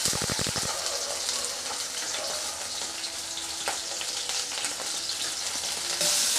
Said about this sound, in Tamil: பிரண்டை நல்லா வதங்கிடுச்சு